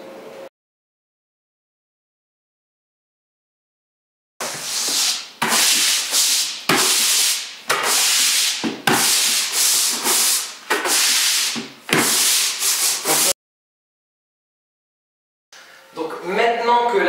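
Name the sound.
scrubbing an old wooden parquet floor with a brush broom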